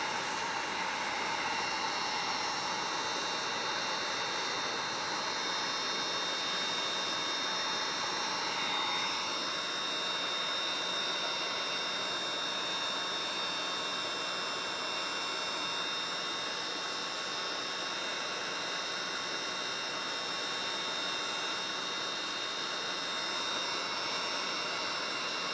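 A heat tool blows on poured resin in a coaster mold, a steady close whooshing hiss running unbroken and fairly faint, with no talk.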